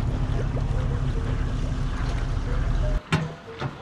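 Boat being launched at a lake ramp before a stormy weeknight fishing tournament, a steady rumbling engine and water wash, then a sudden cutoff followed by a few sharp knocks and splashes.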